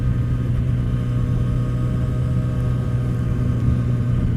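New Yamaha R6 sport motorcycle engine pulling at low RPM, a steady droning rumble with a slight rise in pitch, close and continuous with no talking.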